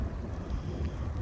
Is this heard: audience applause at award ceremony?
no